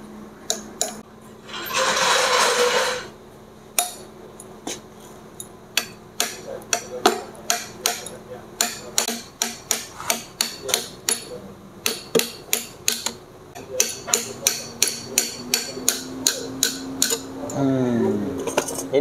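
A hammer strikes metal again and again while a rough-running engine is being repaired, delivering sharp, ringing taps in a loose irregular rhythm, close and loud, after a brief burst of hissing noise.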